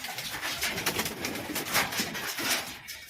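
Fancy pigeons kept by a hobbyist bird seller, soft repeated cooing close by over a steady bed of hiss and background noise, with no speech.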